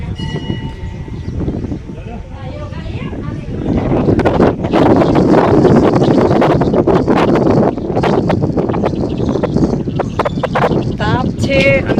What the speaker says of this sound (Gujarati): તાપ છે અને એક સાઈડ પવન પણ એટલો છે